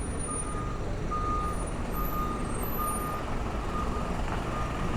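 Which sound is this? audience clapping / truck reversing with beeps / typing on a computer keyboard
truck reversing with beeps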